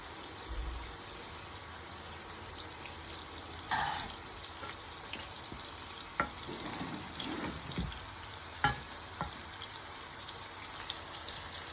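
Ginger and garlic fry in a pan with onions as the base for a potato curry, giving a soft, steady sizzle broken by a few faint clicks and clatters.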